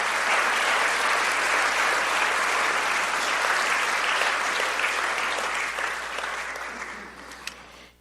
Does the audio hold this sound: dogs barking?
no